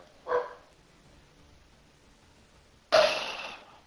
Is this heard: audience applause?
no